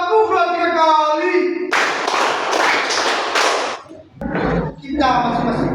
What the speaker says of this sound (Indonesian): Tepuk 2-3 kali.